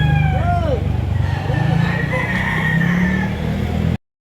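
Two gamecock roosters, a street comb and a bicom, crow in repeated rising calls over a steady low rumble of engines and background noise.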